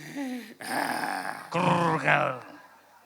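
A voice imitates snoring with drawn-out, groaning breaths and grunts in several close, steady phrases, with no other sound around them.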